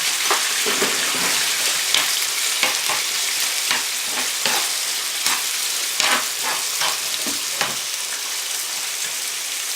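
Calf liver frying in a pan with tomatoes, sizzling steadily throughout with repeated clinks and scrapes of a utensil stirring it, close and fairly loud.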